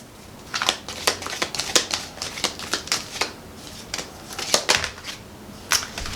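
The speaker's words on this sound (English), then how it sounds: "these little heart cards are hard to shuffle" Small heart-shaped cards being shuffled by hand, a quick series of crisp riffling bursts and flicks, close and fairly loud.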